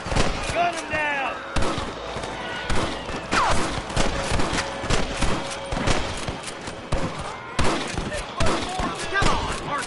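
Gunfire in the Western game Red Dead Redemption, a rapid fusillade of loud rifle and pistol shots in bursts throughout, close and echoing, with voices shouting between the shots.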